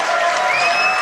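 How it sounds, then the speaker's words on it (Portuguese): Applause and cheering from a crowd in a television studio, a dense, loud wash of clapping with a few whistles on top, brief and continuous. "Vamos aplaudir o Magrão aí?"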